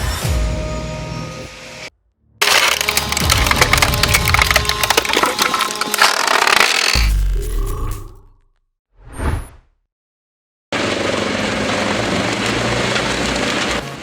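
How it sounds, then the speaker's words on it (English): Classic 1980s Brooks 1002 wood chipper with a Scania engine shredding trees: a loud, dense roar of splintering wood and a straining engine that cuts off abruptly, followed by a brief whoosh and then more chipping noise. "Let's dive into wood chipping madness."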